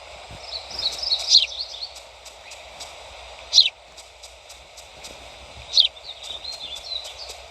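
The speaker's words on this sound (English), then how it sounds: "I really like that there are multiple noises that a bird makes." Bird calls in the video game Skyven, with a few sharp high chirps standing out over a steady ambient bed and a low rumble, spaced apart across the scene.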